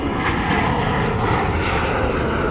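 A loud, steady roar of an airplane engine at an airport fills the whole stretch, droning continuously at close range with no voices.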